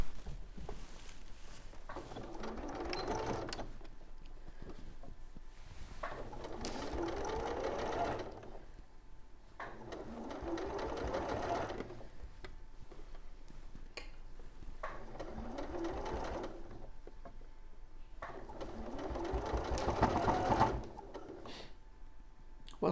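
A sewing machine runs in repeated bursts of rapid stitching, with short pauses between, sewing a collar piece onto a fabric toy love bird at a 2mm stitch length.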